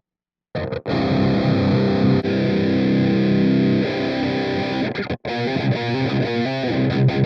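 Distorted electric guitar played through an Atomic Amplifire amp modeler with a cab impulse: thick sustained overdriven chords ring out, with brief cuts between them, then choppier palm-muted riffing toward the end, loud and with no talking.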